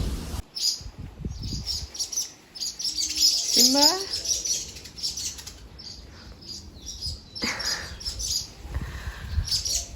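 Small birds chirp and tweet in quick bright bursts from nests at a house, some close by, with a brief lower call and faint background noise.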